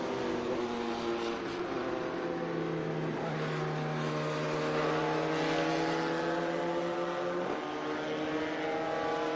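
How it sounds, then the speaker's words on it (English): An Indy Lights race car at Watkins Glen passes by, its high-revving engine whine rising and shifting in pitch through several gear changes, heard from a distance with a steady, continuous drone. "that Indy Lights car."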